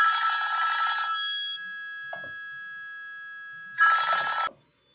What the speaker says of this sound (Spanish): para un momento que me suena el teléfono